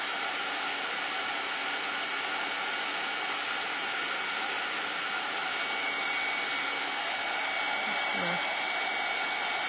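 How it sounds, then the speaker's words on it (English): A hair dryer blows steadily at close range over a wet watercolor painting of simple birch trees, its broadband whoosh continuous and loud for the whole stretch with no talk. "I'm gonna grab the dryer."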